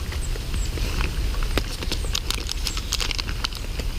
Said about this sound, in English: Bit of drizzle.